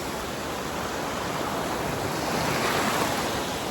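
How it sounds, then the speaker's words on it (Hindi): Ocean waves wash onto an empty beach at Anjarle in Maharashtra on a cool, calm morning, making a steady, loud, broadband rush of surf with no voices. "पीछे से लहरें भी आ रही है।"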